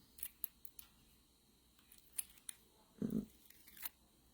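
Backing being peeled off a sticker in card-making work: a series of small ticks and crackles with a brief rustly rip near the end, close and quiet, with no voices.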